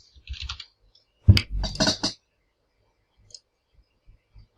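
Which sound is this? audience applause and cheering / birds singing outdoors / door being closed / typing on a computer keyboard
typing on a computer keyboard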